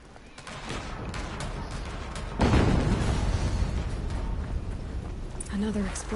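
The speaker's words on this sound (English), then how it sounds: "Another explosion." An explosion in the video game Horizon Zero Dawn Remastered, played on PS5, erupts as a sudden loud boom partway through and leaves a rumbling roar and crackle. Gameplay noise runs before it, with a brief tone near the end.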